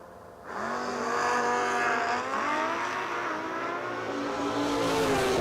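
A drag race pits a Nova car against a motorcycle, engines roaring loud and continuous with rising, shifting harmonic tones as they accelerate, sustained throughout.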